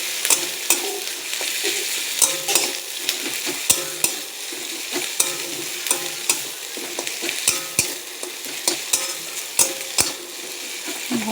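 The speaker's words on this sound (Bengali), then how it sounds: "আদা রসুন বাটাটা ভালো করে নেড়ে দিতে হবে" Ginger-garlic paste being stirred into onions frying in a pan, a steady close sizzle broken by repeated scraping and clacking strokes of a spoon against the metal, with no talking.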